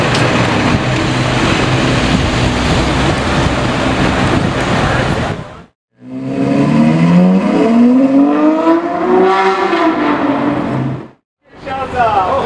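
A Porsche GT2 sports car rolls in at a Gumball 2022 exotic car gathering, its engine revving hard in rising and falling sweeps, close and loud, with a crowd and voices around it and brief gaps between pulls.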